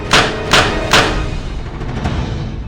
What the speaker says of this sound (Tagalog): At kapag ito'y sinindihan, ito'y sumasabog na parang kanyon.